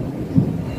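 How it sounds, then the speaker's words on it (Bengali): Thunder during heavy rain on a rainy day, with water pooled and lightning flashing: a short, low rumbling burst rises briefly out of a steady wash of rain. "সমানে বিদ্যুৎ চমকে যাচ্ছে।"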